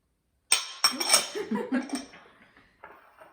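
Bowls and utensils clink and clatter while dry ingredients of oats, flour and salt are combined for a vegan, gluten-free banana bread. Sharp close knocks come first, then quicker, lighter rattles that fade out, with one last faint clink.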